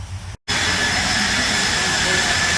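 A leaf blower clearing sand off newly sanded pavers at a home in Springboro, Ohio, roaring loud and steady after a brief cutout, a continuous close airy whoosh with no talk.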